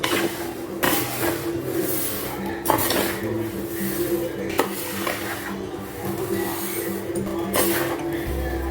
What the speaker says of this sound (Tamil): ஆறுறதுக்கு நல்லா இந்த மாதிரி எல்லாத்தையும் ஒன்று சேர்த்து நல்லா கிண்டி விட்டுருங்க.